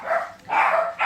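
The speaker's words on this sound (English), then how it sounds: "the dogs are barking at him." Dogs bark at a man arriving home, three close, loud barks in quick succession, each drawn out and tonal, with nothing else audible.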